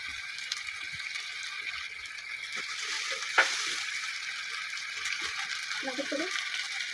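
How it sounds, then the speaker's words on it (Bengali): Onions are stirred and fried in a home kitchen pan, giving a steady soft sizzle with a sharp utensil clink midway and faint voices in the background. "এই যে এখন এগুলো একটু ভালো করে নেড়ে চেড়ে পেঁয়াজটাকে ভেজে দেবো।"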